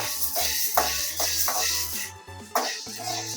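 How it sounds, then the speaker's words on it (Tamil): Black peppercorns dry roasting in a pan make a soft, continuous rattling hiss, broken by a few light scrapes and knocks as they are stirred. "மிளகையும் நல்லா வறுத்தாச்சு."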